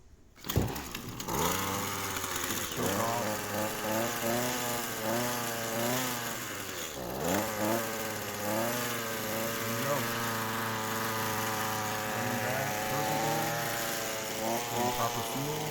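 A Toro model 51978 weed trimmer's small engine catches after priming and pull-starting, then runs and revs up and down repeatedly with a loud, buzzing whine close by.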